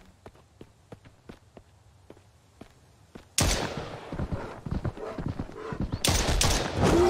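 Gunshots fired at a bear in the survival video game Mist Survival: a run of soft, evenly spaced footstep-like taps, then a sudden loud burst of rapid shots and crashing noise that continues to the end.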